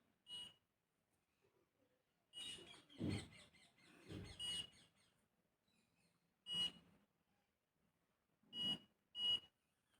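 An electric hair curler gives a series of short, faint electronic beeps in an irregular pattern, spaced a second or two apart, heard alone in an otherwise quiet room.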